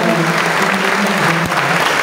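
Audience applause at a motivational seminar, a dense steady patter of clapping filling the whole short stretch at an even level, with faint voices underneath.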